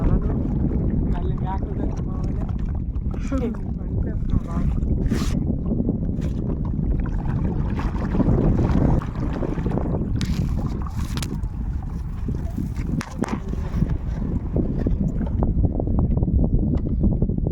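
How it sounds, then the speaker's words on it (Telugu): Strong wind roars across the microphone in heavy, continuous gusts while fishing nets are cast from a boat, with water and boat noise underneath and occasional thumps. "గాలి చాలా ఎక్కువగా ఉంది"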